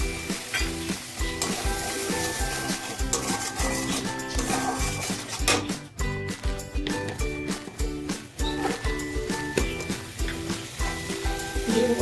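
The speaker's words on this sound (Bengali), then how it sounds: "দিয়ে ভালো করে নেড়ে চেড়ে মশলাটাকে কষিয়ে নিতে হবে" Spice masala for a Bengali prawn curry sizzling steadily in a pan while a spoon stirs it, scraping and clinking at a regular rhythm, close and loud throughout without voices.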